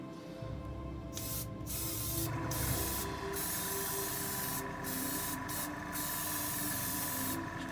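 An aerosol can sprays a coat onto seafoam model trees and bushes, a close, steady hiss that cuts out briefly several times between bursts.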